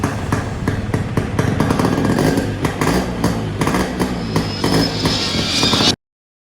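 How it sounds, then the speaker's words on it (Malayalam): A Yamaha RX 100 motorcycle engine runs close by with a rapid, pulsing exhaust beat that swells in a few revs, then cuts off abruptly. "വാഹനപ്രേമികളുടെ തലയ്ക്കു പിടിച്ച ഒരു മോട്ടോർ സൈക്കിൾ. ഇതാണ് യമഹ എന്ന കമ്പനിയുടെ പേര് സുവർണ ലിപികളിൽ എഴുതി വെച്ച വാഹനം"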